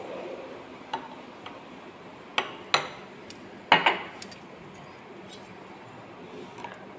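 A spoon stirs a glass of aloe vera, kalonji and ginger juice with lemon and honey, giving sparse light clinks and taps against the glass, a few sharper ones clustered in the middle, over a quiet room.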